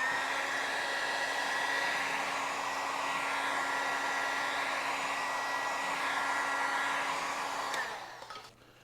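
A heat gun blows with a steady whining roar and a constant tonal hum as it warms the vinyl seat cover of a Honda CL175 motorcycle, close and loud, then switches off and spins down near the end.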